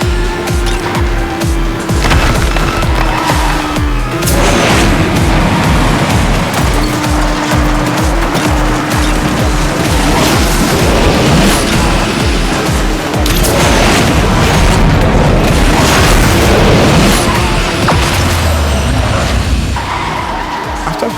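Asphalt 9 racing game audio plays on a Xiaomi Redmi Note 8 Pro phone, loud and continuous. Car engines roar, tires squeal and skid, and booming impacts and driving music beats run throughout, with no talk.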